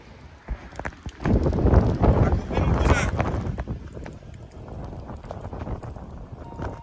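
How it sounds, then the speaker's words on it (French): Strong gusty wind buffets the microphone with heavy low rumbling, loudest early on, with a voice speaking over it at times. "il fait froid, il y a un vent de fou"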